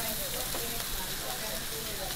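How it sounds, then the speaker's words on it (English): Continuous crackling sizzle of wild hog and chicken cooking over a fire, a dense hiss filling the background throughout. "Oh, listen to that sizzle, guys."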